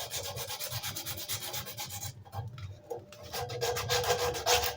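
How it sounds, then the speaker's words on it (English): Coarse 100 grit sandpaper rubs back and forth over an old wooden screwdriver handle, making steady close-up scratchy strokes with a short pause midway before the rubbing resumes louder. "This is just 100 grit sandpaper."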